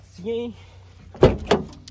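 A car door with a faulty latch that is held shut by a strap is handled, giving two sharp, close clunks in quick succession, shortly after a brief voice.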